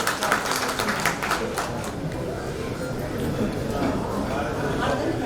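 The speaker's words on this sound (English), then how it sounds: "A round of applause, ladies and gentlemen." Audience applause greets a publication release at a South Asian cities summit, a scattered clapping burst that fades early while chatter and talk continue over the hall.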